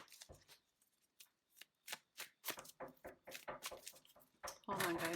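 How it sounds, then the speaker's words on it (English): A deck of tarot cards is riffled and shuffled in a series of short, crisp papery bursts, ending in a louder, denser flutter, with a person talking softly between the shuffles. "I'm going to shuffle this one more time"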